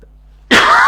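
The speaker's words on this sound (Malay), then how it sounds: "Batuk tak hilang lagi, saudara." After a moment of near silence, one loud, harsh cough or throat-clearing from a lingering cough bursts out close by and holds to the end.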